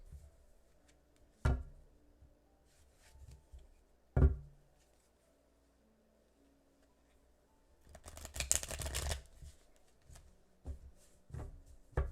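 A deck of tarot cards is shuffled by hand in a quiet room, with a few sharp taps and one longer riffling burst in the middle, soft and close.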